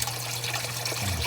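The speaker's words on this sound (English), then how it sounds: "That straw sound, that means the water went below, but look, it's still flowing." A sump pump draws down the last of the water, a short rushing, slurping trickle with a low steady hum underneath, close and fairly loud.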